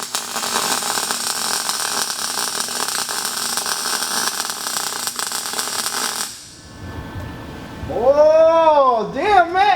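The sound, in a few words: welding on a car body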